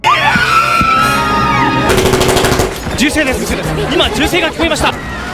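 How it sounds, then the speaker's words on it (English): Rapid bursts of gunfire ring out inside a hijacked passenger plane, loud and echoing over a panicked crowd shouting and screaming. "gunshots suddenly echo inside the plane"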